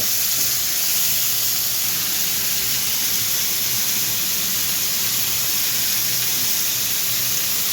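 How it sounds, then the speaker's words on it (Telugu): Onions and a dried red chilli fry in hot oil with a loud, even, close sizzle that holds steady throughout. "ఇప్పుడు శుభ్రంగా దోరగా ఉల్లిపాయలు పచ్చివాసన పోయే వరకు వేగాలి"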